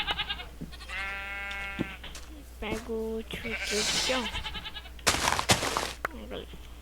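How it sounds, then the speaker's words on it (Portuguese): Sheep in the video game Minecraft bleat several times in short wavering calls, fairly close and clear, mixed with a person speaking and game clicks. "Ah, já tem 3 ovelhas por causa do que eu fui cruzando."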